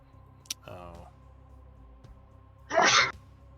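A single loud, close sneeze bursts out alone, preceded by softer voice sounds and a faint click against a quiet indoor background with a steady hum.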